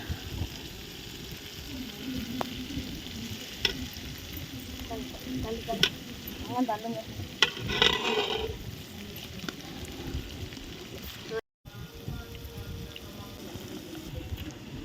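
Masala for a mutton biryani sautéing in a pan, with a soft continuous sizzle and intermittent scraping stirs at moderate distance, a short silent gap near the end and no clear talk.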